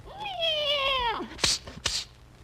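A dog imitates a cat, giving a long, wavering meow-like howl followed by two short sharp yelps, close and fairly loud in a quiet room.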